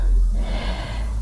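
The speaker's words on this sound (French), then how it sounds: "Prends une belle respiration." A deep, audible breath drawn in during a morning yoga flow, a close, airy inhale lasting about a second with a slight nasal rush.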